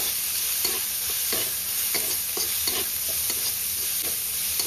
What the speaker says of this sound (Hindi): पियाजटा को आम भल भाव गोल्डन ब्राउन कलर होगा पर्यंत फ्राए करना